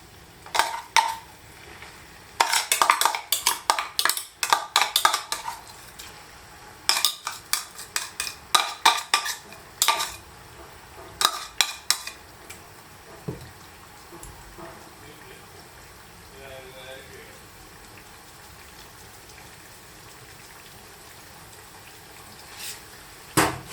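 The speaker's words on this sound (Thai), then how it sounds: "เราก็จะใส่กระเทียมลงไปเจียวเลย" Ginger and garlic frying in oil for Thai chili oil, stirred with a wooden spatula, giving clusters of scraping and clattering strokes against the pan over a faint sizzle, with someone talking between bursts.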